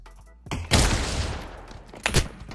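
Gunshots in the virtual reality shooter game Pavlov, a sharp burst followed by a dense rumbling spray, then a second loud report near the end, close and loud with no talking.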